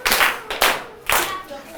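A school class claps for a student during an English lesson, with a few bursts of clapping from a small group of children, fairly close and loud.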